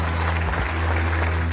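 An audience at an event announcing astronauts for a moon mission breaks into a dense, steady wash of applause, with a low hum running underneath.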